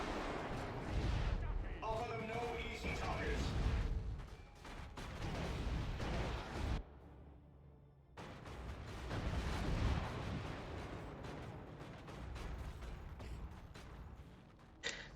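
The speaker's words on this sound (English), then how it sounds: "And now the Gem Cloud grenade again." Explosions and heavy gunfire-like bursts from a Gem Cloud grenade in a KOTH shooter video game, loud rumbling blasts that fill most of the span, with a brief quieter gap in the middle before the booming resumes.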